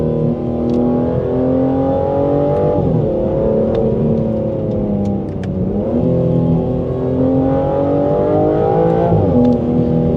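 A 2025 Aston Martin Vanquish with a twin-turbo 12-cylinder engine being driven, a loud continuous engine drone that rises and falls through gear changes and accelerations, heard from inside the car with no talk.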